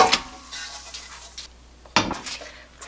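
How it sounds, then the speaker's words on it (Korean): A metal cooking pot being swapped for a larger steamer pot while preparing duck, giving two sharp clanks of metal cookware about two seconds apart amid softer handling rattles, close and alone. "다시 큰 냄비로 바꾸겠습니다."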